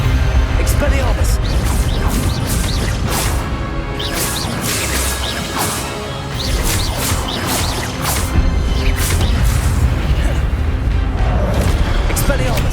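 Spells being cast in the Hogwarts Legacy video game, including Expelliarmus, give a dense run of whooshes, crashes and booming impacts under continuous loud game noise, with a voice speaking over it.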